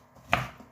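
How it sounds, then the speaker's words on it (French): A single short scraping clatter of a utensil tossing vegetables with spices and olive oil in a saucepan, close and clear with no talk. "je vais mélanger tout ça pour qu'il y ait des épices et de l'huile d'olive un peu partout"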